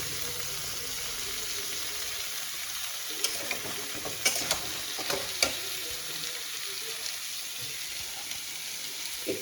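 Mustard and tomato paste sizzling in a hot pan, a steady close hiss with a few scattered clicks and stirring knocks in the middle.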